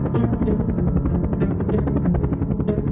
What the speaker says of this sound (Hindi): बाबा ने टेक ऑफ किया और हेलीकॉप्टर को घुमाकर इजिप्ट की ओर ले जाने लगे।